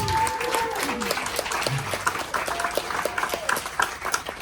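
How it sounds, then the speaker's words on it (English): A crowd on a cruise ship gathering applauds a man's wife, steady clapping at moderate distance with some voices and faint whistling mixed in. "Give my wife a round of applause"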